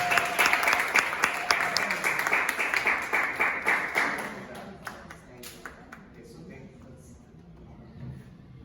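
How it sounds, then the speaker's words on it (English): Applause at a seventh-grade school sukkah fair, a small audience clapping in a lively rhythmic burst that fades after about four seconds, with voices around it. "Round of applause."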